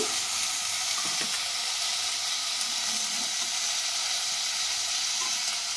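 Diced potato, carrot, beetroot and peas sizzling in a hot pan for pav bhaji, a steady close frying hiss with a few faint stir clinks, no voices.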